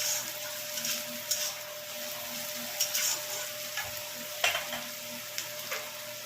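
Food fries in a pan in a home kitchen, giving a soft, continuous sizzle with occasional stirring scrapes and clicks, fairly quiet and close, with no talking.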